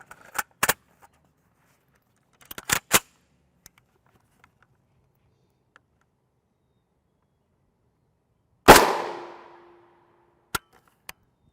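An FN SS190 armor-piercing round fired at a UHMWPE NIJ Level IIIA helmet: one loud, sharp gunshot with a ringing metallic tail, preceded by several smaller clicks and knocks and followed by two short taps.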